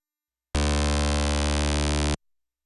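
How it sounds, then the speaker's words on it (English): An electronic dance music bass synth plays one sustained, loud buzzy note lasting about a second and a half, then cuts off abruptly into silence, heard alone. "I have a bass sound like this."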